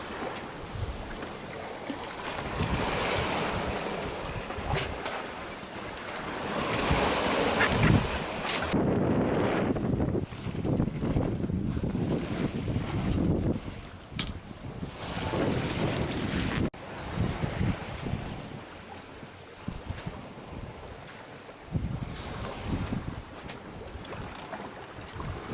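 A sailboat on the open sea during the first night of a solo passage from Nuku Hiva to Tahiti, with constant wind buffeting the microphone and waves rushing and splashing against the hull, no talk.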